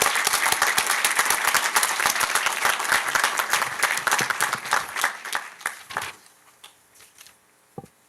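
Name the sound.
audience applauding the graduates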